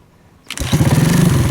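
A Honda three-wheeler engine catches on the first pull. After a short silence there is a sharp start, and then a loud, steady, close putter runs without any voices.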